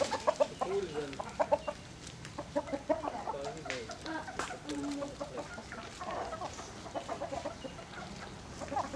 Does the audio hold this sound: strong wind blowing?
no